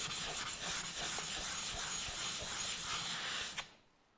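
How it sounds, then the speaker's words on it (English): A diamond plate rubs back and forth across the surface of a soaked sharpening stone, flattening it, a steady close gritty hiss of rasping strokes that stops abruptly near the end, with no speech. "I'll take my diamond plate and I'll rub the surface of the stone"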